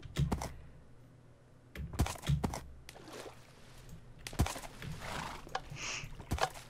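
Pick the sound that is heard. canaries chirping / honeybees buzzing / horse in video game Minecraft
horse in video game Minecraft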